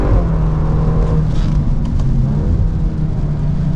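A 2025 Volkswagen Golf R with all-wheel drive accelerates out of a corner at Road America, a loud, steady engine drone heard from inside the car with rising tone and continuous road rumble, no voices.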